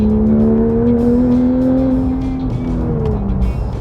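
A Porsche with a PDK transmission accelerates with a loud, close engine drone whose tone climbs smoothly and then eases slightly. No one speaks.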